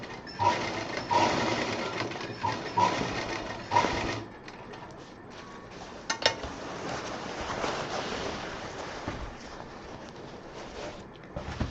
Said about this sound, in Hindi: अब ये जो नीचे का हिस्सा था इस पर भी हम 3-4 बार सिलाई करें ताकि ये मजबूती से पकड़ने आ जाए।